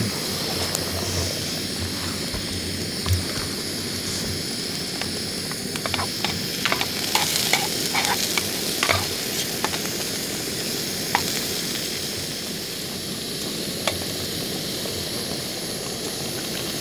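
Forest mushroom sauce cooking in a pan over a camping stove on a solo wilderness trek in Finnmark, a steady, close broadband hiss and roar running throughout, broken by scattered sharp clicks and scrapes of stirring, with no talking.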